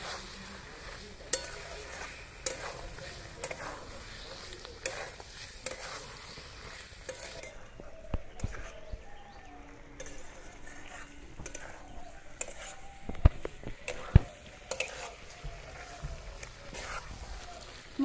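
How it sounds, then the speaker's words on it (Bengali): Fried potatoes and green peas sauté with spices in oil in a pan, a soft steady sizzle with occasional stirring scrapes and clinks, faint and close, with brief speech in places. "এবার আলুর সাথে আমি ভালো করে একটু কষিয়ে নেব।"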